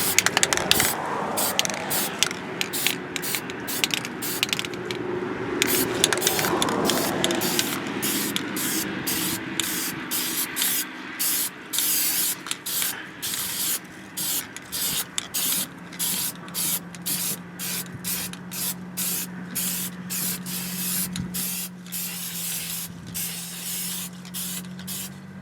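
Spray coating hisses onto a Jeep undercarriage in repeated short bursts, first in a long continuous spray and then in a rapid stuttering series of pulses with a low mechanical hum beneath.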